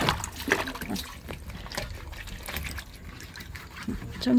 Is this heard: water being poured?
yes